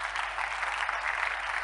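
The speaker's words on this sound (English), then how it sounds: "Come on, clap your hands." A church congregation claps hands in steady, dense applause throughout, fairly loud and close, with no talk over it.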